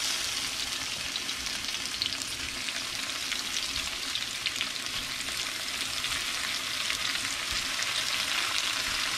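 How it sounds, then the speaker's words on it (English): Salted shrimp sautéing in a pan, giving off a dense, continuous sizzle and crackle from close by, with a little stirring movement now and then and no voices. "Just going to saute it until it's halfway there."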